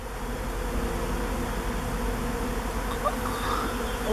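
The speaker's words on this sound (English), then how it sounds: "This is a swarm." A honeybee swarm hums steadily and loudly, a dense continuous drone of many bees close by with no speech over it.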